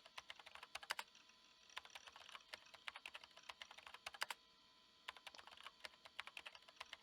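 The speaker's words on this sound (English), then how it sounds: "The only sound reverberating through the room was that of someone tapping at a keyboard" Rapid keyboard typing as a sound effect in the visual novel ChäoS;HEAd: quiet, steady bursts of clicking keys with brief pauses between runs.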